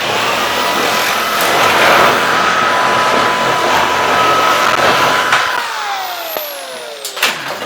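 A corded power saw cuts through steel roofing with a loud, continuous grinding whine and harsh metallic rasp. The motor then spins down in a falling whir as the cut ends.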